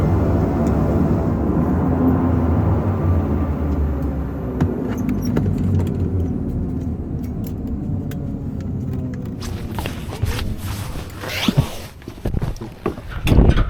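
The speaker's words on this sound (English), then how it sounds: "After a short but amazing flight, we land into the airport here at Hofn." Eagle Air airplane at Hofn airport just after landing, a loud steady engine rumble and whine continuing throughout, with rattling clicks and bumps growing toward the end as it taxis or powers down.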